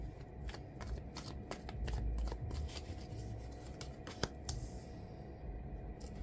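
Tarot cards are shuffled up close, with a run of crisp riffling snaps and flicks and one sharper slap, all fairly quiet with no voices.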